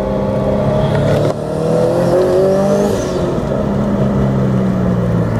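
A Subaru GR WRX STI fitted with a Milltek cat-back exhaust accelerates hard, its loud flat-four exhaust drone rising steadily in pitch through the gears, with a brief dip at a shift, heard from inside the car.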